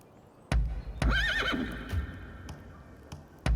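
In Rise of the Ronin, a horse gives a single quavering whinny near a stable trader, with clip-clop hoof thuds before and after, close and fairly quiet.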